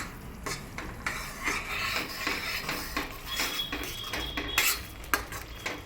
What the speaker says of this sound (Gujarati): બે ટીસ્પૂન ધાણા જીરું પાવડર નાખીને મસાલા બધા સારી રીતે મિક્સ કરી લેવાના